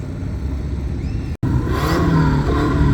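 Toyota and BMW race cars roar past on a track at a drag or circuit race day, loud engine revving and whirring that cuts out briefly, then returns with rising engine tones close by.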